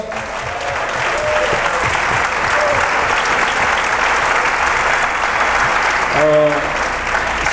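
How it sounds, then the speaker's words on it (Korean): Church congregation applauding in praise at a gospel service, loud dense clapping filling the whole stretch without pause, with a brief voice rising over it near the end. "aplauso de gloria a Dios."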